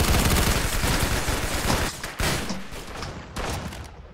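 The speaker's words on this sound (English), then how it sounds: "Finally, I did something good with the shotgun." Shotgun blasts and other gunfire in an online team shooter, a loud, close, dense volley of shots that thins into a few separate booms.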